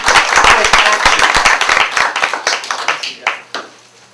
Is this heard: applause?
yes